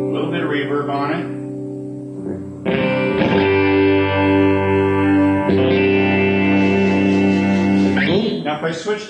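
Electric guitar played through a Line 6 amplifier on a warm California clean voicing with reverb: loud sustained chords ring out with a long tail, and fresh strums land around three and five and a half seconds, with no talking.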